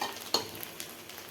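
Cooked rice is stirred in a pan for fried rice, a brief, faint sizzle with a few soft spatula scrapes and taps, close and quiet, with no talking.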